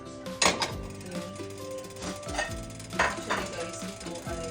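Pork sautés in a little oil in a pan, with crackling sizzle under repeated clinks and scrapes of a utensil against the cookware, close and moderately loud.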